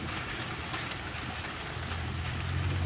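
Hail comes down hard and steady outdoors, a dense, continuous patter with a couple of sharper impacts, heard without voices and a low rumble building near the end.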